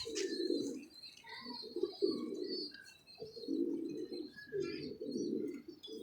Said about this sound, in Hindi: ये बड़े अच्छे नामवर घर का कबूतर है